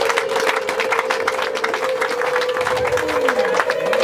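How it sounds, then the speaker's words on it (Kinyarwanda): An audience bursts into sustained applause with a high ululating trill running through it, a loud, dense crowd sound that holds steady throughout. "Imana tuhereza amashyi n'impundu"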